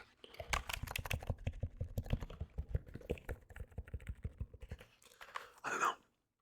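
Typing on an HP Pavilion membrane keyboard, a steady run of soft, close key presses for several seconds, then a brief louder rustle near the end before it goes quiet.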